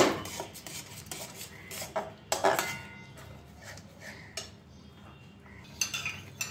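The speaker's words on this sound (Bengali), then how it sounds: "এবার দইটা বাকি মশলার সঙ্গে ভালোভাবে মিশিয়ে দেব।" A spoon stirs whisked yogurt into spices in a metal kadai for katla fish rezala, giving repeated scraping and clinking of metal on metal, fairly soft and close, with irregular bursts.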